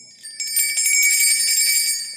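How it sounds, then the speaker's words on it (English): A small hand bell rings close and bright, its shimmering tone jangling steadily and sustained through the whole moment, with no speech. "I should ring my little bell to raise the energy"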